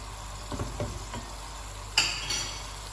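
Tomatoes and garlic cooking in a pan for a sauce, a steady low sizzle with scattered stirring scrapes and a sharper clink of utensil on pan near the end.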